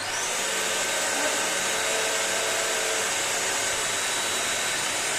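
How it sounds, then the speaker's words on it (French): A Bissell Crosswave PetPro wet vacuum cleaner runs continuously with a steady, loud whirring motor and airflow hiss, close and unbroken for about five seconds. "donc en activant l'aspirateur et la petite gâchette, voilà."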